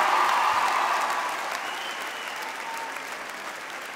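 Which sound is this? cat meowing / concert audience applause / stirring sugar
concert audience applause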